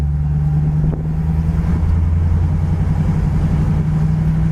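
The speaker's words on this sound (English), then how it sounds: "car really travels down the road nice" A green 1968 Ford Mustang convertible cruising down the road, its engine holding a steady low drone with road and wind rumble, close and continuous without any talking.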